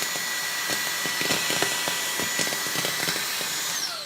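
A Brigii MX30 handheld vacuum fitted with its multi-surface tool whirs at a steady, close whine, with rapid scratchy scrubbing taps over the motor noise and a slight drop at the end.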